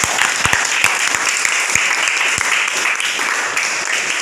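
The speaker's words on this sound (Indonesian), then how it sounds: "Berikan tepuk tangan." A class audience applauds a student group's presentation, with steady crowd clapping and a few sharp, close individual claps standing out near the start.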